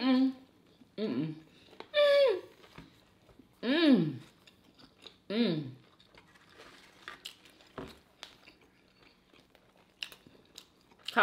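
Crunchy chewing of a cauliflower chip, close to the mic, in short bursts between throaty hums of enjoyment.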